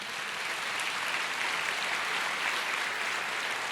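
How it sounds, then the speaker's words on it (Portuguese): Church congregation applauding during a worship service, a dense, steady wash of clapping hands that holds evenly throughout. "A igreja aplauda ao Senhor."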